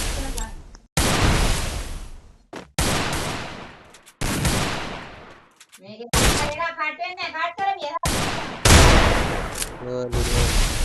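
Video-game gunfire rattles out in long, loud automatic bursts, broken by short pauses and a brief tonal in-game sound midway.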